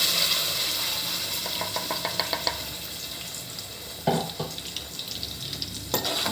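A prepared masala mixture is stirred into a pan of fried green chillies for rajma masala curry. A steady sizzle runs under it, a metal spoon clinks and scrapes against the pan, and a few sharper knocks come near the end.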